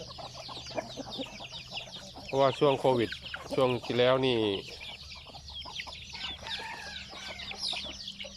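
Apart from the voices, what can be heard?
chickens clucking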